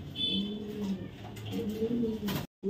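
A male racer pigeon coos in a low, repeated throaty rumble, close and steady, with a brief break near the end.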